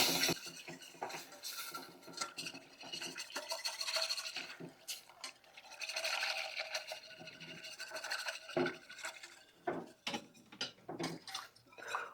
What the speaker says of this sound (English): we're just going to whisk that in very slowly